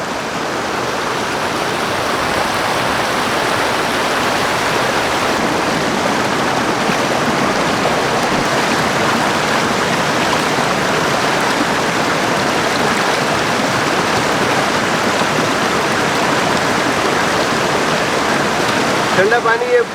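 Cold mountain stream water rushes steadily through Kargah Nallah near Gilgit, a dense, unbroken wash of flowing water held close and loud for the whole stretch with no voices over it.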